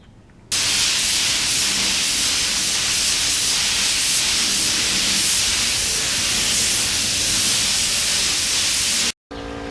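Clear coat hisses from a spray gun onto motorcycle restoration parts for an FZR, one loud continuous burst lasting several seconds that stops abruptly, then briefly resumes.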